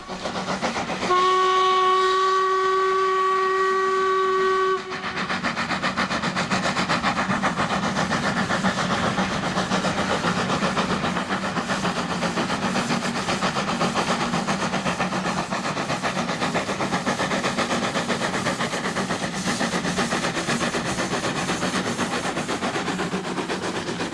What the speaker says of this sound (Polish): Parowóz na kolejce Five Street Stalban nosi numer 83180.